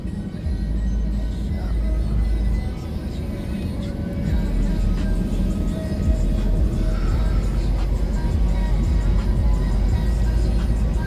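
Continuous low rumble of traffic moving through a Winnipeg snow blizzard at minus 18 degrees Celsius, vehicles passing at moderate distance in a steady wash, with a person speaking over it.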